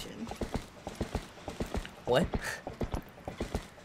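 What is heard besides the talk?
horse hooves clip-clopping in the video game Zelda: Twilight Princess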